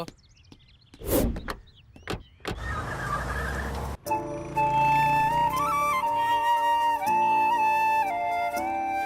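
A car door shuts and the engine turns over and starts, then the vehicle pulls away with a steady engine drone and shifting tones as it drives, loud and close, with no talk.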